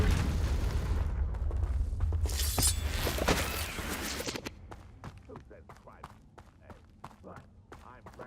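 A Confringo blasting spell detonates in Hogwarts Legacy with a loud, crackling blast and shattering debris lasting a couple of seconds, then fading into quieter footsteps and sharp clicks.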